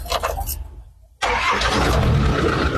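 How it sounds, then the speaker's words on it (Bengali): A car engine cranks and catches after a brief quiet pause, then settles into a loud, steady running roar that continues to the end. "আর গাড়ি স্টার্ট দিয়ে দেখাই"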